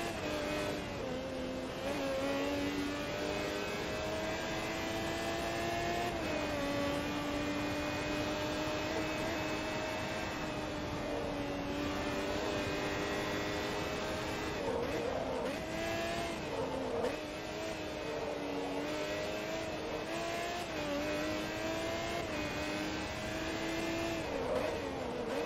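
A Pagani Zonda GR race car in Forza Motorsport 2 drones steadily at high revs for the whole stretch, the engine pitch dipping briefly at shifts and braking before climbing again, loud and close with no talk.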